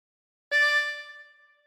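A single drawn note on hole 8 of a harmonica, a bright reedy tone that starts sharply and fades over about a second, close and alone.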